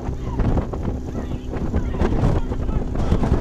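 Wind buffets the microphone at a rowing race on the water between Princeton and Georgetown lightweight women's crews, a loud steady rumble and rush with a commentator talking over it.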